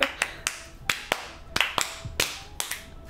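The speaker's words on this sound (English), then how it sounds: "I'm gonna clap again." Sharp hand claps at home, about a dozen quick crisp smacks in an uneven rhythm, close and isolated with no talking.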